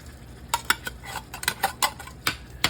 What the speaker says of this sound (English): Go ahead and add this, and our can of tomato sauce